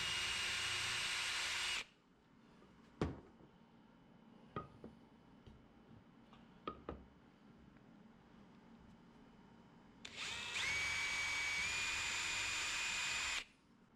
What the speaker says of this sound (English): I then drilled the baseboard with a number 38 drill, which is an appropriate size for a number 6 wood screw.